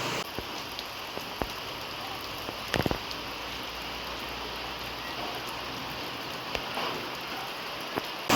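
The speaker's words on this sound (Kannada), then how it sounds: "ಬಿಸಿಲು ಬರ್ತಿದೆ, ಮಳೆನೂ ಬರ್ತಿದೆ" Steady rain patters densely on surfaces during a sunshower, a continuous even hiss with a few sharper drips and a brief knock, no voices clearly heard.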